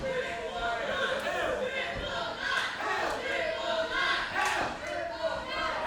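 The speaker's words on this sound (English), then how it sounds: "Crowd seems a little split here tonight" A live wrestling show crowd roars and cheers in a steady, dense wash of noise, with occasional thuds from the ring and a commentator talking over it.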